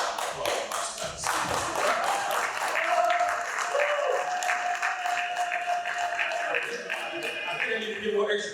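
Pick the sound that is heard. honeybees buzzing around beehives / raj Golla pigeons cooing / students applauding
students applauding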